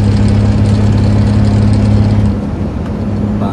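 A loaded produce truck's engine idles loud and steady with a low drone, then the tone shifts and roughens about two thirds through as the driver shifts into gear.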